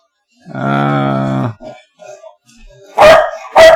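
A nearby dog lets out a long, drawn-out bark or howl, goes quiet for a moment with faint murmuring, then gives two sharp, loud barks close to the microphone.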